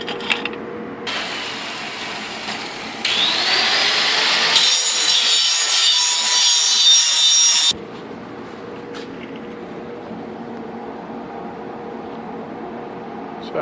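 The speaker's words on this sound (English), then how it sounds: "And we can just clean that up with a grinder now." An angle grinder works steel on an impact hammer mill gold ore crusher build, a loud close whine that shifts pitch and bites harder midway, then drops back to a steadier lighter grinding drone.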